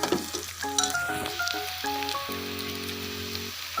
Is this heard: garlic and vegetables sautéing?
yes